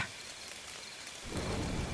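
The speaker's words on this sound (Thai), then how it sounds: "ฝนเริ่มโปรยลงมาเป็นสาย แล้วค่อยๆรุนแรงขึ้นเป็นลำดับ" Rain and thunder from an audio drama storm: a steady hiss of rainfall that swells into a heavy, dense downpour with a low rumbling thunder roll in the second half, continuous and close, with no voices.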